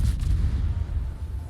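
A torpedo striking a warship in a naval combat video game, a deep rumbling boom that rolls on heavily for over a second with no talk over it.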